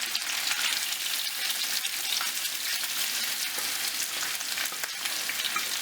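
Chopped onions hit butter and oil in a hot saj pan, crackling and hissing in a steady, dense sizzle that holds evenly throughout with no speech.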